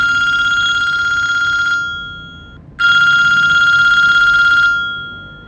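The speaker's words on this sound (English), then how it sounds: "when the phone started ringing again" A telephone rings loud and close in two long electronic trills separated by a short pause, with nothing else heard.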